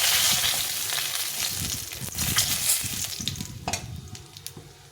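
Cumin seeds and bay leaves fry in hot oil for a Bengali cabbage and fish-head ghonto, a close, steady sizzle broken by uneven scraping and stirring strokes throughout, with no talk.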